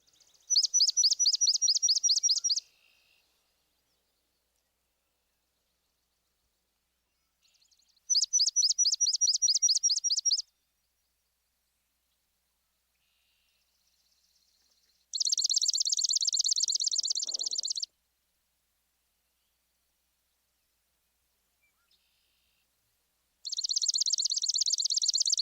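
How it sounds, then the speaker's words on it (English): Swamp sparrow songs: four reedy trilled phrases of a few seconds each, separated by silent gaps, clear and fairly close with no other sounds. "First, both versions of the somewhat reedy swamp sparrow."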